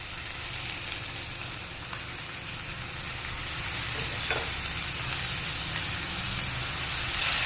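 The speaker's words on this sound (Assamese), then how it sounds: "জাতিলাওখিনি আমি অকণমান কেঁচা ভাৱটো যোৱালৈকে এনেকৈ ভাজি ল'ম" Chopped bottle gourd sizzles steadily in a hot pan with ginger-garlic paste, a constant close frying hiss broken by occasional scrapes and stirs.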